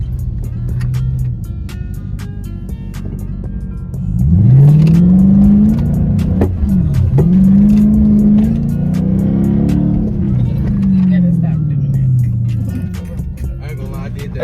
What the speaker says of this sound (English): I always spin right here though because it's a lot of dirt